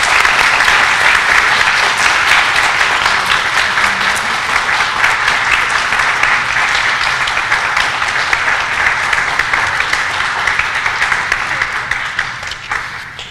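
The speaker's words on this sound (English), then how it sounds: "so let's give a round of applause to them" Sustained applause from a ceremony audience at a community college honor society event, dense and loud clapping that holds steady for several seconds before slowly tapering off.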